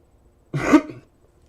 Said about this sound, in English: I didn't mean to cough on you.